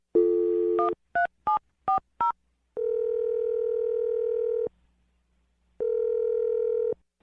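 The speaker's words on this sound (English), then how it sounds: "I'm going to dial her phone number right now" A landline telephone is dialed: a short steady tone, then four quick keypad beeps in even rhythm, followed by two long steady dial tones separated by a pause, loud and close with no voices.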